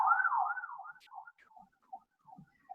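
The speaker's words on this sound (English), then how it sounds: "I'm sorry for the siren" An emergency vehicle siren wails outside, starting fairly clear and then breaking into faint, scattered fragments as it fades away.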